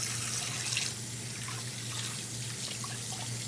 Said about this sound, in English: And wash that meat off in cold water.